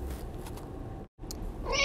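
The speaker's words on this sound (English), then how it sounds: "He's my cat." A cat meows over a muffled background hum: a faint meow briefly interrupted by a short silent gap, with a higher cry rising near the end.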